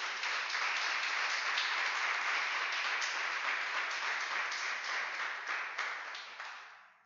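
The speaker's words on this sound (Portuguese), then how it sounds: "Você pode dar mais uma linda salva de palmas para Jesus?" A church congregation claps in sustained, dense applause for several seconds, loud and even before fading out at the end.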